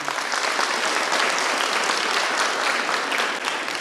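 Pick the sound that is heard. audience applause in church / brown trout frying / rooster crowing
audience applause in church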